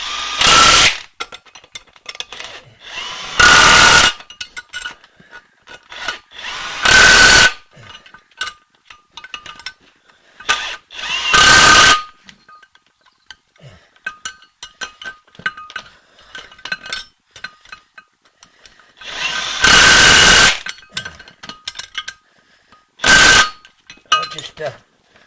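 A power tool repeatedly whizzes up parts for an uprated front brake conversion on a Jaguar E-Type 2+2, loud bursts of a few seconds each separated by quieter clinking and handling sounds.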